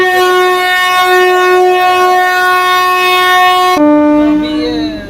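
At Chorvad Road railway station, a train horn blares in one long, very loud, sustained tone that drops abruptly to a lower pitch near the end and then fades slightly.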